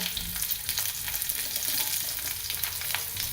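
Onion sautés in a pan for a drumstick stir-fry, giving a continuous close sizzle and crackle of frying with light stirring and no talking.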